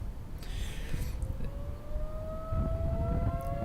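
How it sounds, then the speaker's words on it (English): Tornado sirens wail across Troy during a severe thunderstorm, long rising and falling tones carrying from a distance over steady rumbling background noise. "Is the sound of the tornado sirens going off in Troy right now."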